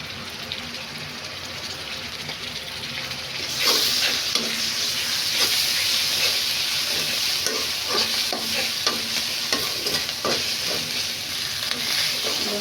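Ginger garlic paste masala sizzles and fries in a pan while being stirred. A steady frying hiss sits under repeated scraping and stirring clicks, growing louder and busier partway through.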